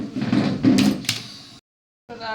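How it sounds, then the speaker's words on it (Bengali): A home door pushed shut with a short wooden knock and rattle amid household voices, followed by a brief silence and more talk. "চেপে দাও, দরজাটা চেপে দাও।"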